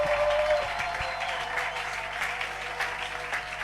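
A church congregation applauds and cheers in acclaim for the Lord during a leadership conference session, a steady broadband clapping wash held over a low hum for the whole stretch, loud and continuous without speech.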